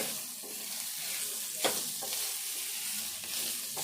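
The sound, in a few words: mixing chilli powder into potato snack mixture in pan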